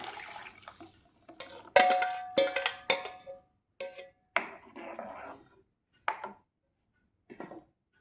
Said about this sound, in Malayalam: ഇങ്ങനെ കൈവിടാതെ ഇളക്കിക്കൊണ്ടിരിക്കണേ.